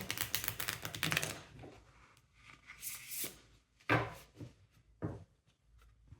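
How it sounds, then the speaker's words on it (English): A tarot card deck being shuffled by hand produces quick papery riffles and soft taps, coming in irregular bursts up close with short pauses between them. "I'm going to use my tarot deck as well. I'm just going to shuffle it to refresh the energies of the cards"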